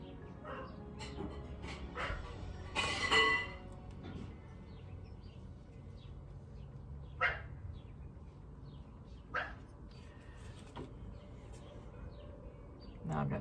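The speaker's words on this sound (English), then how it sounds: "These dogs are crazy." Dogs bark in scattered bursts at a moderate distance indoors, with occasional yips under quiet background noise and some talking.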